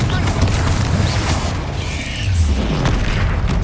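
A Confringo spell blast goes off in Hogwarts Legacy as a loud, close booming burst with a rumbling tail under dense game sound, with no talk.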